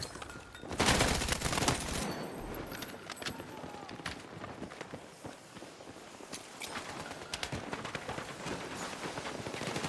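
Rapid bursts of KORD-6P67 gunfire in Battlefield 6, loud and close at the start, then scattered shots and distant battle noise through the rest, with someone talking over it.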